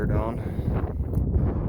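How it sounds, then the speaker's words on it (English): Gusty wind buffeting the microphone on a blustery day in a park in Edmond, Oklahoma, a rough low rumble throughout with a voice over it. "it's a very windy day"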